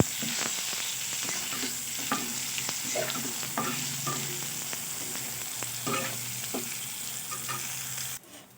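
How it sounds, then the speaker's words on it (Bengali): Eggplant pieces fry in hot oil with a continuous soft sizzle, punctuated every second or so by the light scrape and tap of a spatula stirring, before the sound cuts off abruptly at the end. "আলুগুলো তুলে নিয়ে আমি বেগুনগুলোকেও একরকম পদ্ধতিতে ভেজে নিচ্ছি"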